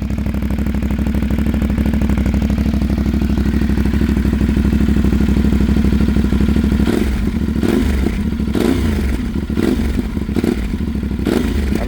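Warm CFMOTO 450SS motorcycle idling, a loud close exhaust burble with a steady low rumble, then a series of sharp throttle blips and revs in the second half.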